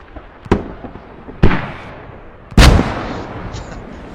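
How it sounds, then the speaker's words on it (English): Mortar explosions in a video game, three sharp blasts spaced about a second apart, the last the loudest with a rumbling tail, over quiet background. "I think he just got taken out by a mortar"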